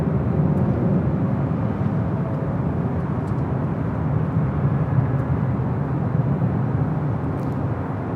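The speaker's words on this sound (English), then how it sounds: "Of course, it's Atlas Air 777 freighter, a 16-year-old bird." An Atlas Air Boeing 777 freighter, sixteen years old, at Los Angeles International Airport gives a steady, loud low-pitched engine rumble that holds evenly throughout with no voices.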